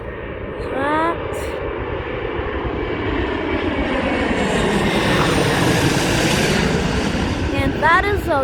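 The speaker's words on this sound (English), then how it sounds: "That is a Delta DC-9 landing." A Delta DC-9 airliner lands at Dulles airport, a steady loud roar of jet engines swelling and sweeping past, with whining tones rising and falling near the start and end.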